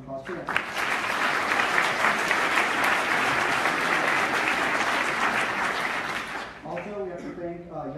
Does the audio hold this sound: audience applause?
yes